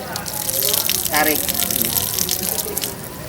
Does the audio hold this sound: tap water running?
yes